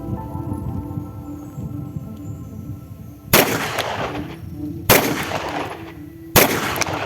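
A 9mm pistol fires three loud, sharp shots spaced about a second and a half apart on a range, each cracking over a low background rumble.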